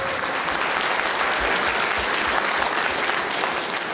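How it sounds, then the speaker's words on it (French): Steady, dense applause from an audience at a nationalist political gathering, loud and continuous throughout with no talk over it. "Vous pouvez l'applaudir."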